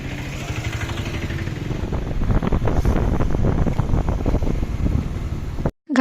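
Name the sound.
strong wind blowing into the microphone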